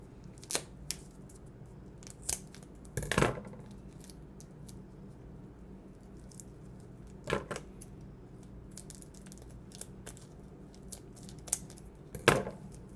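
Quiet snips and plastic crinkles as a package of turkey is cut open in a kitchen, a few soft clicks and cuts spread sparsely over a low hum.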